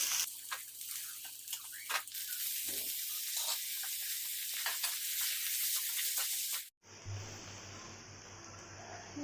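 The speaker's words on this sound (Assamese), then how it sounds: "এইখিনি ভালকৈ ভাজি লোৱাৰ পিছত ইয়াত চাওমিনখিনি বহুৱাই দিছে।" Chow mein noodles stir-frying in a pan with onion and garlic, a steady close hiss and sizzle with faint scraping and stirring, cutting abruptly to a different sound near the end.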